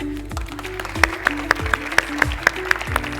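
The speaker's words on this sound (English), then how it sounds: "Now I want to hear a very big round of applause for Mr. Farhan Qasim and Reba Saleh." Audience applause at a TEDx youth event in Kurdistan, with clapping swelling into a steady round from the hall over background music, with sharp claps standing out at a regular beat.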